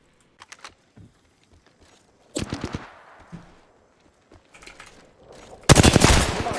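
Bursts of rapid gunfire in the battle royale shooter Apex Legends, from sparse shots to sharp automatic volleys and a loud, dense burst at the end, mixed with footsteps and game sounds.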